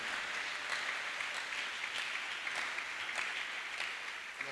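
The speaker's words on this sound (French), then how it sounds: "Est-ce qu'on peut acclamer très fort?" Church congregation clapping together: steady, sustained applause with faint rhythmic peaks, filling the room evenly at a moderate, somewhat distant level throughout.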